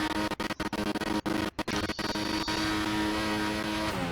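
A racing car in a video game screams at high revs through a brake zone into the first corner, its engine note cutting in and out in rapid downshift blips before settling into a steady loud drone.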